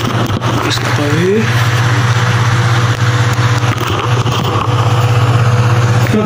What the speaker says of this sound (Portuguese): Acabou de chegar no carro ali, ó, escutando um barulho do carro ali